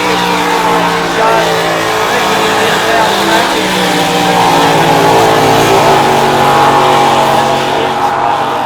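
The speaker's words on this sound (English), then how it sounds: "Tate Ramsey now stands on the gas" A racing boat powered by a Toyota six-cylinder engine accelerates hard at the start of a heat at the E C Griffith Cup, a loud sustained engine roar rising in pitch throughout.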